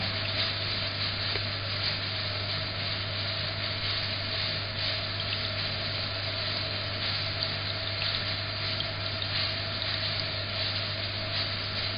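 Water pours steadily out of the cooling line of a copper reflux condenser column on a home still, a constant close trickle with a low steady hum underneath and no speech.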